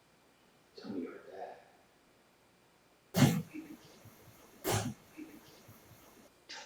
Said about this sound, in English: It sounded like a cough.